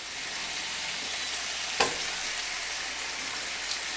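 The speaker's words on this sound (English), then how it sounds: "I'm just going to let that cook down until those onions have a little bit of translucency to them" A coarsely chopped medium onion sizzles in a pan for a pear chutney: a steady, close, even frying hiss with one brief clatter partway through and no talking.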